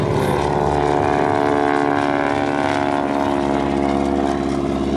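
Stearman biplane engine with a wing walker aboard, a loud, continuous, throbbing radial-engine drone with a steady tone that stays close and strong throughout, with no voices over it.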